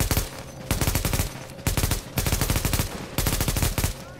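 Rapid bursts of automatic gunfire from The Division, in a Times Square firefight during co-op play, with dense repeated volleys in several bursts and brief gaps between them, loud and close.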